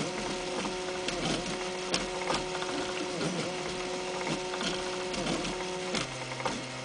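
A DIY 3D printer steadily prints small parts for 3D hands, its stepper motors whirring in close, rhythmic pulses with repeating tonal buzzes and light mechanical clicks. No voices are heard.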